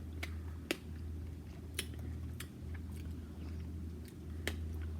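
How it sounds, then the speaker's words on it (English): Crunching down on passion fruit seeds while eating the fruit, heard as a few sharp, close bites and crisp cracks scattered over low background hum, with no talking. "the best part is when you crunch down on the seeds"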